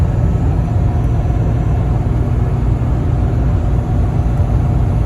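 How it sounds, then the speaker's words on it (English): A Cummins diesel truck engine with a fault drones steadily while driving on a long highway trip, a loud, constant low rumble heard from inside the cab with no talking. "it is kind of nice just to get to listen to the truck for a little bit"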